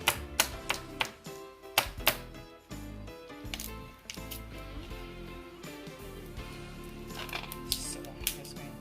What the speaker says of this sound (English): shell is cracked open, so I'm just going to go ahead with my knife gently